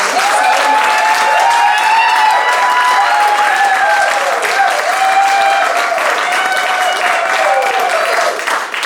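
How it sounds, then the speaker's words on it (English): Applause from an audience at a live show, sustained and fairly loud, carrying along under tonal ringing sounds that run through the whole stretch. "I just want to give her an applaud for that right now"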